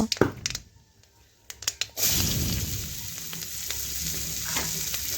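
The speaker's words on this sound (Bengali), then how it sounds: "ওই পেঁয়াজ কুচি এখন তেলের মধ্যে দিয়ে দেব" Chopped large onion is dropped into hot oil with a few clinks and knocks, then breaks into a loud, continuous sizzle that keeps going steadily to the end, close up with no talking.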